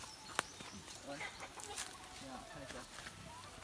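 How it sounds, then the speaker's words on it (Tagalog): Chickens and turkeys on a farm cluck and call in scattered bursts at moderate distance, with faint background noise and occasional sharper clicks. "Ang mga manok eh, guys, mga pabo guys"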